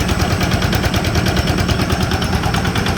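A Yanmar SS70 7 hp diesel tiller engine runs loud and close, a rapid, even, hammering chug that stays constant throughout with no pauses.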